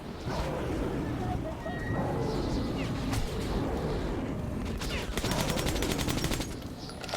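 Rapid bursts of gunfire from a weapon in the video game Metro 2033 Redux, sustained automatic shots over a dense, noisy battle din, with a tight rattling volley partway through.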